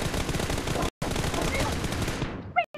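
A machine gun fires rapid, sustained bursts in the PUBG Mobile game. The crackling rounds are loud and continuous, break off in one brief gap and end with a sharp final shot.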